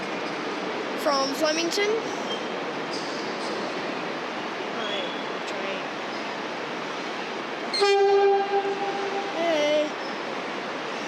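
A Melbourne Metro train, a Siemens set running not in service, rolls slowly through a station with steady low rumbling and wheel noise. A sustained horn blast sounds near the end, and a person speaks briefly over it.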